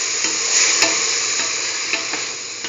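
Potato and broccoli marinated in mustard stirred in a hot pan, a steady close sizzle with soft scraping strokes and a few sharper taps of the utensil against the pan.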